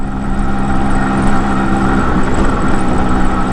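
A motorcycle engine runs steadily at riding speed on a trip toward Parasi, Nepal, a continuous loud drone with a low rumble and no talking over it.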